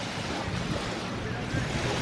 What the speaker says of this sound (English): beautiful sound of the waves